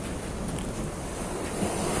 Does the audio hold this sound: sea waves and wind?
yes